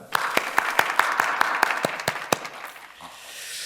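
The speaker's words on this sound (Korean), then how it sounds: "우리 하나님께 영광의 박수 올려드립니다" Early-morning church congregation giving applause in praise of God, a burst of clapping with distinct sharp claps standing out, fading after about three seconds.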